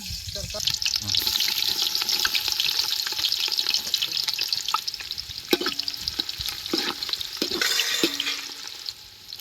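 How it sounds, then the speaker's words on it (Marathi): Finely chopped onion frying in hot oil over a wood-fired stove outdoors, a steady close sizzle with scraping stirs and occasional clinks of the utensil against the pan. "मग त्यात बारीक चिरलेला कांदा टाक."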